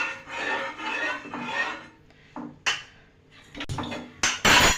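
A spoon rasps and scrapes against the bottom of a pan as custard powder is mixed into milk with the stove still off, giving uneven rubbing strokes that end in a few sharper clinks, close and unaccompanied by speech.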